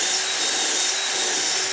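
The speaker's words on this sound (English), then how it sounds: "I'm using this action of drilling a bit, coming out, letting the debris come out and then back in again." A drill bores a hole in wood with a Parf guide system, a loud, steady grinding whir held close up, without voices.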